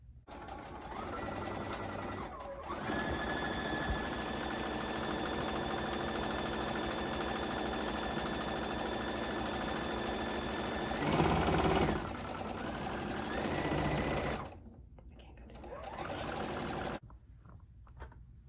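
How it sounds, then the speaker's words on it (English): Sewing machine running a regular straight stitch along the pressed edge of fabric for a pleated pillow, a steady whirring hum that holds for long stretches, briefly pauses, then resumes before stopping near the end. "I've got it set to just a regular straight stitch. And all I'm going to do is just stitch that pressed edge down so that it's finished."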